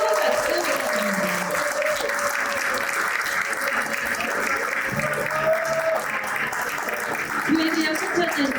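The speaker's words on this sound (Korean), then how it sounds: "뜨거운 박수 부탁드립니다." Applause rises from the audience at a church reform group's 20th anniversary ceremony as an honoree is welcomed to the stage, a moderate, continuous wash of clapping with tonal sounds and voices mixed in over it.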